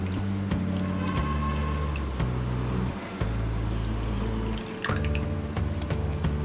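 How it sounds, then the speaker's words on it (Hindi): Water is poured onto washed poha in a bowl, a steady close splashing stream with bubbling gurgles that briefly pauses and then resumes, with no one talking. "इसमें हम पानी डालेंगे"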